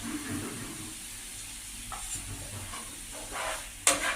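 Spice masala for doi katla frying in oil over medium heat, with a soft low sizzle and intermittent scraping strokes of stirring, ending in a sharper clatter near the end; nobody speaks.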